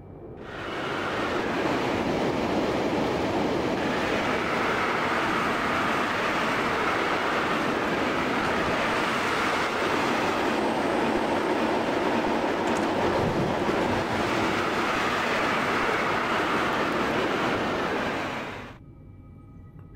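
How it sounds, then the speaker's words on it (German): A passing train in Train Simulator 2019 on a route to Koblenz, a loud, sustained rushing roar with rumbling wheels and wind-like noise that holds for about eighteen seconds before cutting off abruptly. "Oh, und da ist noch ein Zug."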